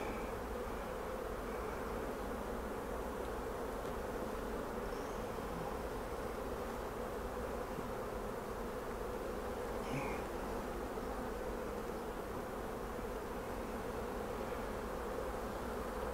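Honeybees crowd open hive frames of capped brood, larvae, eggs, honey and pollen, giving a dense, steady buzzing hum that holds unbroken and fairly close throughout, with no voices.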